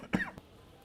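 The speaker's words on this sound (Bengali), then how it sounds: "তোমার কাশি হলো কখন?" A single short, close cough from a person in an indoor drama scene, a brief rough burst followed by quiet.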